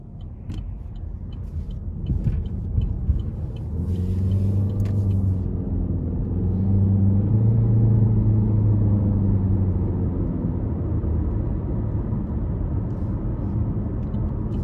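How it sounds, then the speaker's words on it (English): 2020 Chevy Malibu LT with a 1.5-liter turbo engine out on the road, a low steady engine and road rumble that swells as the car accelerates, heard from inside the cabin with no talk. "next we're gonna take this Malibu out on the road for a quick test drive"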